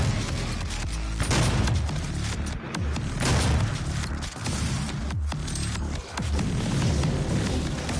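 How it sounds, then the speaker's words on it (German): Heavy BFG weapon blasts and explosions in the video game DOOM, a dense, loud roar of booming bursts and clattering debris running continuously through the stretch. "Da, friss mein BFG."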